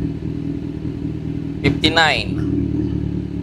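A motorcycle engine idling through its cold-start warm-up, a steady low rumbling hum that runs throughout while someone speaks briefly over it midway.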